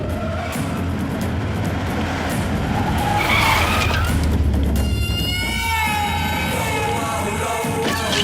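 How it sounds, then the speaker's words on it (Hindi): A car in a Hindi drama scene arrives and skids, giving a loud engine roar and a long screech of tires, with faint shouting in the background. "सरकार की गाड़ी आ रही है।"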